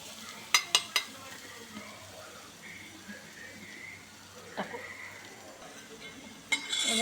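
Ingredients are stirred in ghee in a pan with a soft, low sizzle, marked by a few sharp utensil clinks against the metal at the start and again near the end.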